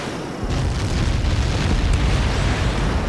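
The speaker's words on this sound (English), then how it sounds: "How many got caught in that explosion?" A huge explosion in the video game Ace Combat 7, a sudden deep boom that swells into a sustained, rumbling roar lasting several seconds.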